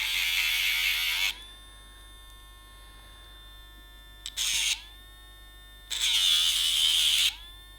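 Electric dog nail file with an LED light grinding a dog's nails: three separate high-pitched whirring bursts, close and steady, the first and last lasting over a second each and a shorter one between, with quiet gaps.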